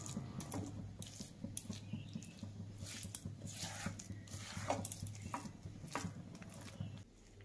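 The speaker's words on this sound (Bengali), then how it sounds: "এবারে নারকেলের মিশ্রণটাকে কিছুক্ষণ এইভাবে নেড়ে চেড়ে মিশিয়ে নেব।" Coconut filling for red mushroom-shaped pitha is stirred in a pan over a gas flame, giving soft irregular scraping and tapping strokes with a faint steady hum beneath.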